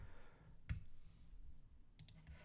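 A few soft, isolated computer mouse clicks as points on a technical drawing are selected, quiet and close against a low steady room hum.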